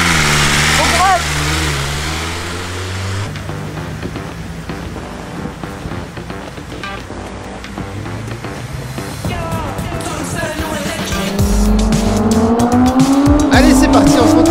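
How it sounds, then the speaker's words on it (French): A powerful 200 horsepower sport motorcycle runs on a race track, its engine revving hard and rising in pitch through the gears, loud and close, with some tire noise and brief talk mixed in. "C'est la première fois que je conduis une moto aussi puissante, 200 chevaux."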